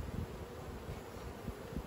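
Honey bees shaken off frames from a honey super hum in a quiet, continuous buzzing swarm, with a few soft low thuds and rustles from the frames.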